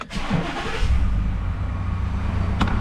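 A car engine freshly filled with race oil cranks and catches, settling into a loud, steady close idle with a low rumble, no talking over it.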